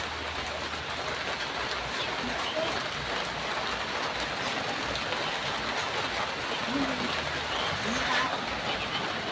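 Steady rain keeps up a dense, even hiss throughout on an outdoor car repair scene with a Chevrolet Orlando, with faint voices and clatter under it.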